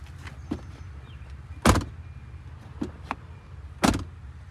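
Doors on a Tata Altroz or Hyundai i20 open and shut nearby, a couple of sharp thuds and several lighter latch clicks spaced apart over quiet background hum.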